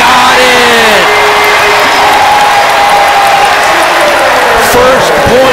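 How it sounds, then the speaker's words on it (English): Home crowd at a Buffalo versus Central Michigan college basketball game cheers and applauds after a made three-pointer, a loud steady roar of voices with whoops and squeaking sneakers, an announcer's voice riding over the top. "you can tell, again, the crowd just getting a little extra into it, seeing Massenberg make that shot"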